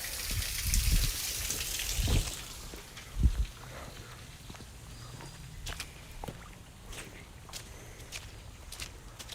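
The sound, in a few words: rain falling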